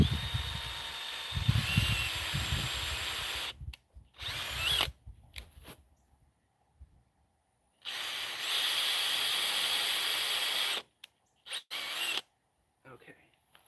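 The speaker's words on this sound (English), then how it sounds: "now we're gonna go ahead and pre-drill our holes again" A power drill pre-drilling screw holes in wood for furniture whirs in several bursts of varying length with silent gaps between, nearby and fairly loud.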